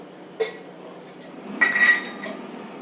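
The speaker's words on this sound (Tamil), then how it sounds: "அடுப்பை ஆன் பண்ணிட்டு கல்லை இதில் போட்டுக்கிறோம்" A metal dosa griddle is set down on a stove burner, giving a sharp clank, then a louder scraping clatter of metal on metal followed by a smaller knock, all close and with no talking.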